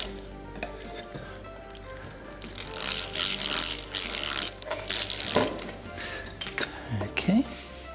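Drilling a pilot hole and driving a screw while building a manual pump, heard as loud mechanical whirring and ratcheting bursts in the middle, with a few sharp knocks and clicks toward the end and talk around it.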